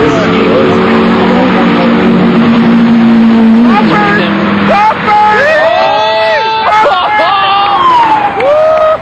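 Street racing cars at a night event, engines roaring loudly and revving up with rising and falling pitch as they launch, heard close over crowd chatter and talking.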